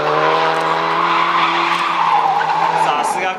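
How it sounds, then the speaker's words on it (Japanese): Tires on a Subaru Impreza WRX STi squeal loudly and continuously as the car swings into an accelerator turn, a long, close skid sliding slowly downward in pitch, with an engine drone beneath it. "おお、そのままそのままアクセルターンに持ち込む"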